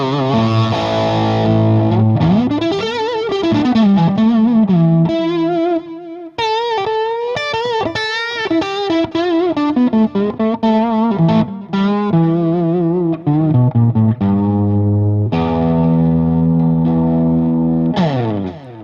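Electric guitar through an Ibanez Tube Screamer TS808 overdrive with the level turned up and the drive set low, heard as a loud, mildly crunchy tone of bending lead lines and chords, played continuously.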